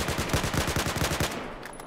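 A rapid string of Battlefield 4 gunshots in burst fire, loud close cracks repeating quickly for over a second before tailing off into a brief echo.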